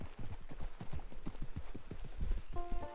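Horse hooves clip-clopping in the video game Red Dead Redemption 2, a quick steady rhythm of close hoofbeats on the ground, with a brief tonal game chime near the end.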